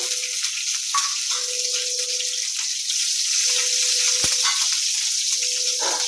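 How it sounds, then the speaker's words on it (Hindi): Chopped green chillies fry in hot oil for a Maithil-style bottle gourd and chana dal curry, a steady close sizzle broken by short repeated tones and a sharp tap near the end. "आ 4टा हरियर मिरचाई के काटि के इमे दऽ रहल छियै।"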